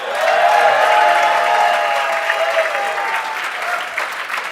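Sustained audience applause at a gala evening, a dense wash of many hands clapping loud and steady for several seconds and easing slightly toward the end.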